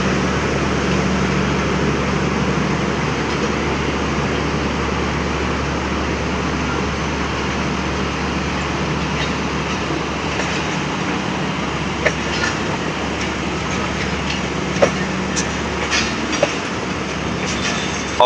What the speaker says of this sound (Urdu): اب عوام ایکسپریس بہاولپور سے ڈپارچر کرتے ہوئے